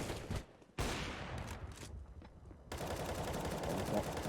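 Counter-Strike: Global Offensive match gunfire, with loud bursts of automatic rifle fire and several sharp shots echoing across a map, a caster's voice talking over part of it.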